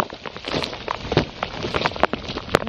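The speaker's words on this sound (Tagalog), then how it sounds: "Oh, it's raining ice." Ice pellets fall during a snow storm, making a dense, close patter of small ticking and rattling impacts that continues steadily and fairly loudly, with no voices.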